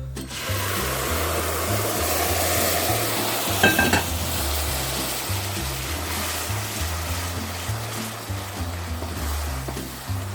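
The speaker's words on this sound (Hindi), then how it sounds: "अब मैं इसमें डालने लगी हूँ ये पानी।" Semolina roasting in a pan for halwa gets water poured in, setting off a loud, steady hiss of sizzling with scraping stirring throughout.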